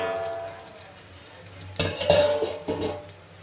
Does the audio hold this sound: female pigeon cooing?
no